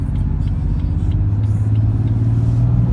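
A BMW M3 engine drones steadily as the car accelerates onto a highway, a loud, close, continuous low rumble with road noise and no break.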